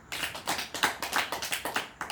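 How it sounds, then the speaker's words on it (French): An audience at a French-language storytelling gathering claps in a quick, rhythmic burst, close and fairly loud, with sharp individual hand strikes blending into brief applause. "Applaudissez pour vous-même"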